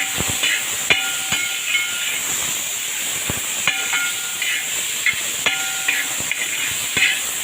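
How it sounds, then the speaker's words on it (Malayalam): Jackfruit sautéing in ghee in a pan, a steady bright hiss with occasional sharp spoon taps and scrapes against the metal, no talking. "ചക്ക ഇട്ട് കുറച്ച് ഇട്ട് കൊടുത്ത് നമുക്ക് നെയ്ക്കകത്തിട്ടൊന്ന് വഴക്കാം"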